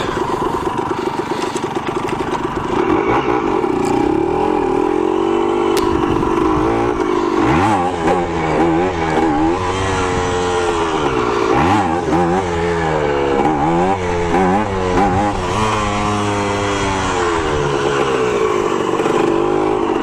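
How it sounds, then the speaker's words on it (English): Honda Grom motorcycle ridden hard for wheelies, its small engine revving up and down in rising and falling sweeps, loud and close throughout with no talk. "We'll take the Grom out and bust around on that."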